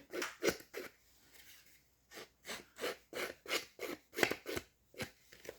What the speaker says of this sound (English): rough up the edges with the scissors